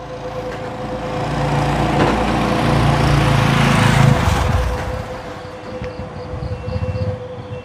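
A motorcycle engine drones nearby on a road beside a house yard, a steady buzzing whine that swells louder in the middle and then eases back.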